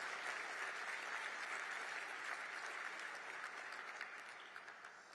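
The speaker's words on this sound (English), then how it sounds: "Sure, applaud my family." Gala audience in Washington, D.C. applauds the speaker's family, a broad, even roar of many hands clapping from a large room, heard from a distance and slowly fading toward the end.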